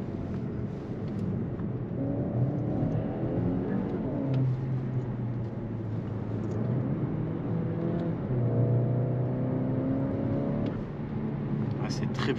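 A 2022 Skoda Octavia RS hybrid estate with 245 hp gives a sporty engine note, partly played through the cabin speakers. It drones steadily from inside the car, rising in pitch as it accelerates, with voices at times.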